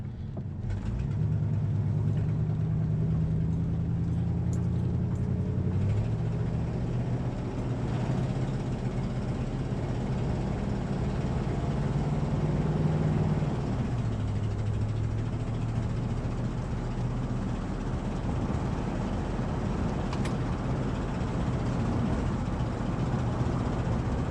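A 1963 Cadillac Coupe DeVille, just pulled out of storage, with its engine running at a steady low rumble that shifts in pitch as the revs change, continuous and fairly loud with no talking.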